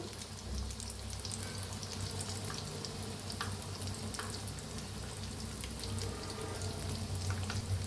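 Bread and potato pakoras fry in hot oil, a steady dense sizzle and crackle with scattered popping bubbles, continuous and close, with no voices.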